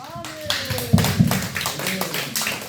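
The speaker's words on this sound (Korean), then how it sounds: "우리 영광의 박수 한번" A church congregation at a prayer retreat claps together, with a few sharp, loud claps rising over voices and scattered tapping.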